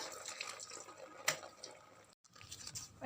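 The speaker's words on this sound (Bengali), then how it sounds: "দেখো আমার ছেলে স্নান করছে" A boy bathing at home under faint running and splashing water, a low continuous wash with a few drips and one brief gap.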